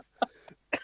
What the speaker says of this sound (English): I too have a persistent cough